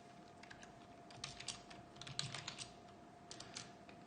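Steady typing on a computer keyboard, a dense run of quick key clicks with occasional louder strokes, close and faint over a low background hum.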